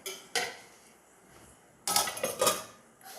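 A metal lid goes onto a cooking pot of Madras-style fish curry: a sharp clink, then a quieter stretch, then a cluster of louder clattering knocks as it is set and settled, close and with no talk.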